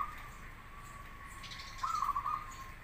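A local zebra dove (perkutut) cooing over a faint steady tone, with a soft warbling call near the end, fairly close and without talk.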